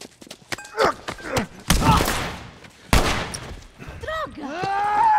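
Sharp gunshots and heavy impacts in the video game The Last of Us, several loud bursts spaced irregularly, mixed with groans and game sounds, with a voice speaking Portuguese between them.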